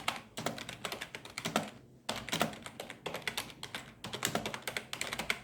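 Keys with tall keycaps and long travel, like a mechanical keyboard, are typed in quick rhythmic bursts of close, crisp clicks, with two brief pauses and no voices.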